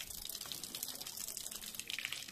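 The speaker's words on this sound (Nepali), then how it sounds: "कल कल पानी है काठमांडू में" Babbling water flowing in Kathmandu, a faint, continuous bright trickle and splash with no speech, steady throughout.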